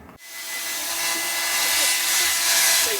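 A hair dryer blows steadily on a small pet dog inside a camper van on a snowy winter trip, a close, continuous whooshing hiss that switches on sharply and runs without pause, with a faint voice in the background.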